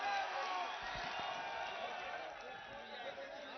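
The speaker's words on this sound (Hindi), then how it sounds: "आदरणीय अखिलेश यादव जी का जोरदार तालियों की गड़गड़ाहट से स्वागत" A crowd at a party workers' conference in Unnao applauds to welcome Akhilesh Yadav. Dense, steady clapping fills the whole stretch at a fairly muffled, distant level.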